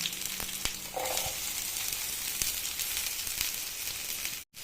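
Onions sizzling in hot oil in a pan for egg curry, a steady, fairly quiet crackling fry with small pops and a brief stir, heard alone.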